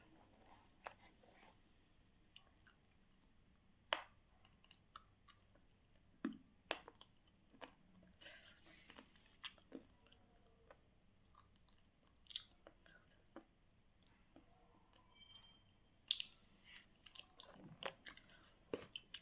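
Crunching and chewing on a white, thick, medium-hard slate pencil, Bablu Gold brand, with scattered crisp bites and crunches close to the microphone against a quiet background.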